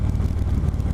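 A 2018 Indian Chieftain Dark Horse motorcycle engine held around 3,000 to 3,500 rpm, a loud, close, steady low rumble with a pulsing throb and no speech.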